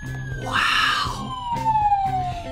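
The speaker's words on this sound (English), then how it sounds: "It even has sirens!" A toy-style police car siren wails close and loud, one long tone sliding slowly downward, with short bursts of extra sound layered over it.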